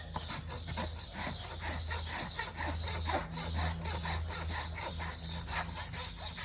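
A rasp files a horse hoof during trimming in quick, regular scraping strokes. The rasping is close and steady, with a low hum in the background.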